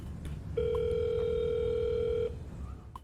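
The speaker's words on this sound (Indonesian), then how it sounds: "Ia menelpon ayah Xiao dengan sedikit drama agar seolah-olah bahwa Xiao benar-benar diculik" A telephone tone sounds on a line during a call in a film. A single steady electronic tone holds for about two seconds, with faint background noise before and after it.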